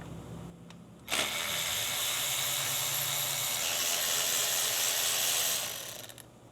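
Ratchet or power tool loosening 10 mm bolts on the VTEC solenoid of a 2000 Honda Civic's B16A engine, a continuous close mechanical whirring buzz lasting about five seconds before winding down.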